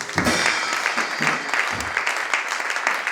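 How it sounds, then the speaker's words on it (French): A church congregation claps and cheers for Jesus Christ, a sustained burst of dense applause with a few louder swells, heard close with no speech over it. "Acclame Jésus-Christ."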